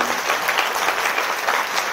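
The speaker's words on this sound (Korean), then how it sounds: "박수 부탁드리겠습니다" Seminar audience applause, a dense, continuous wash of many hands clapping at steady loudness throughout with no voices rising above it.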